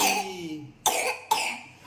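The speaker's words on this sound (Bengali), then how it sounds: "কি কাশি কি কাশি" Three harsh coughs from one person indoors near a kitchen, one long cough followed by two sharp shorter bursts spaced about half a second apart, close and fairly loud.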